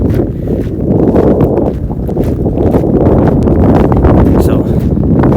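Strong wind buffets a microphone outdoors in Death Valley National Park, making a loud, steady low rumble that barely lets up.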